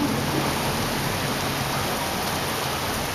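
Steady, dense rain during a hurricane and squall in Moscow, a constant close hiss with no distinct drops or thunder standing out, no voices.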